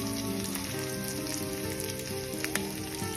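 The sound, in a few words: sautéing onion, red chilli, green chilli and garlic in pan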